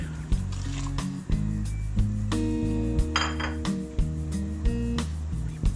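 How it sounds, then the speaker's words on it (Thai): Pork legs go into a pot of boiling water for clear tom yum, with repeated clanks and clinks of metal and dishes, several sharp knocks over a steady bubbling background, no talking. "เดี๋ยวต่อไปผมก็จะใส่ขาหมูนะครับ ใส่ขาหมูลงไปเลย"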